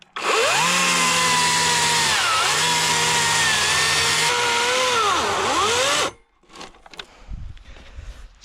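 A Harbor Freight Atlas 80-volt battery chainsaw cuts a slice from a wood log, its motor whining loudly and close with pitch dips as the chain bites, then stopping abruptly, followed by faint rustling.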